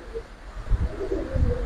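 A large pigeon gives a low, soft burbling coo, close by, over faint background noise.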